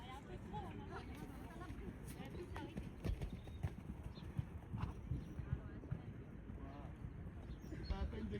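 A mare trotting during a riding course, hooves beating a steady, fairly quick rhythm on the ground at close range, with occasional snorting and a rider talking over it.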